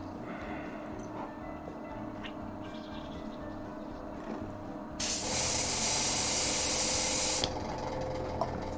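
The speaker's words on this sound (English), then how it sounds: "Once I've cleaned the airbrush out" An airbrush used for miniature painting is cleaned out over a low background hum, with a loud, steady blast of hissing air that starts abruptly at about five seconds and cuts off around two and a half seconds later.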